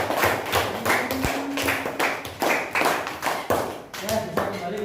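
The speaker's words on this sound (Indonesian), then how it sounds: "Tepuk tangan buat kelompok." Classroom group clapping for a presenting student group, a burst of scattered hand claps with taps and thumps, mixed with voices talking in the room.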